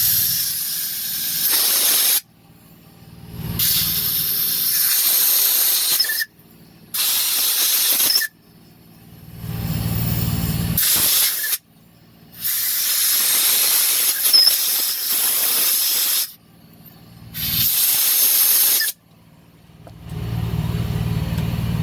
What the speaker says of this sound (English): some air in the hole so you get all the shavings out of there